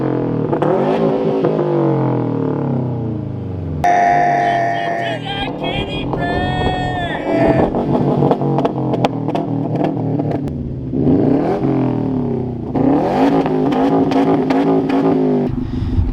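Subaru STI Type RA fitted with a Magnaflow catback exhaust revs in repeated surges, engine note rising and falling loudly and close, with people talking and laughing over it.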